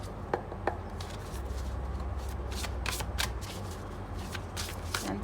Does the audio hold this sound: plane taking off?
no